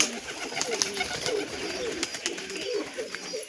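A male pigeon coos at a nest where the female sits on eggs. Soft, repeated throaty coos sound close up over faint background noise.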